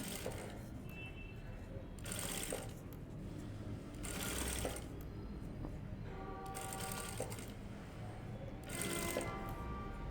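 A sewing machine runs long basting stitches along a blouse seam in quick, fairly quiet bursts of rapid mechanical whirring, four runs with short pauses between.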